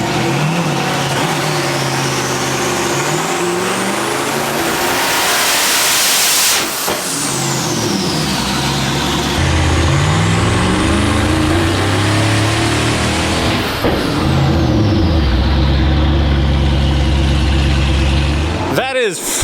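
A turbocharged track-prep car engine revs hard at full throttle inside a small room, rising and falling in loud sweeping pulls with brief drops between, ending in a sharp burst.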